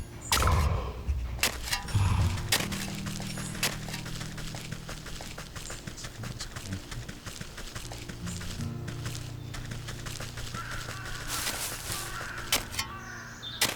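Crows caw in the video game Wytchwood, several harsh calls over an outdoor farm ambience with soft clopping and mechanical clicks.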